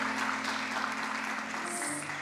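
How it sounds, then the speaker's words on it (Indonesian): Lively applause from an audience at a birthday celebration event, steady dense clapping throughout with a faint tone near the end. "Sekali lagi kita berikan tepuk tangan yang meriah."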